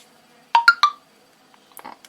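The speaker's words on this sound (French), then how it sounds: "c'est mon téléphone qui sonne" A mobile phone rings with three quick, clear electronic tones. After a short silence, a softer, fainter cluster of notes follows.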